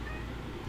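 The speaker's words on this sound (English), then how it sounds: "that fucking cat" A cat lets out a single quick meow close by, cut short within a moment, with a faint room murmur beneath it.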